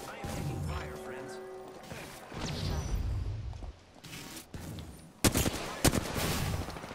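Gunfire in a multiplayer shooter video game, bursts of rapid shots with sharp cracks and impacts, loud and close, mixed with game noise and a player talking over it.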